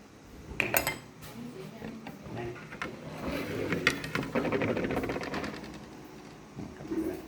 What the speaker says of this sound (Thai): ก็ใส่นี่ครับเครื่องในนะครับ เครื่องในที่เราซอยเรียบร้อยแล้วนะครับ